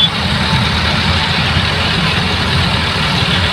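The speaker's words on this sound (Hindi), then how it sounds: "ये लोग ट्रैक्टर ला कर मिट्टी में इसके अंदर फेंक रहे हैं।" A tractor's engine runs steadily while it dumps soil into a hole at a riverside park construction site, giving a loud, continuous low rumble and drone throughout with no talk.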